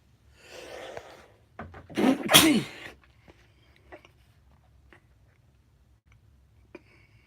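A single sharp sneeze bursts out near a computer during a GTX 970 graphics card installation, preceded by a breathy intake and followed by faint clicks and handling noises in a quiet room.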